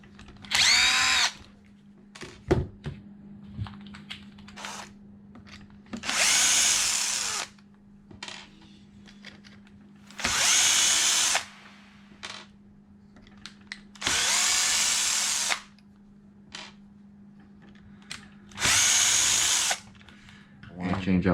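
A power drill works on the wheelie bar of a Traxxas Slash 2WD RC truck, whirring in four or five loud bursts of a second or two each, separated by short pauses with small clicks and handling noises.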